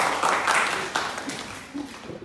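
A short round of clapping from students at a school assembly at SMKN 1 Ngablak, moderately faint and irregular, with small bursts of hand claps rising and fading over a couple of seconds.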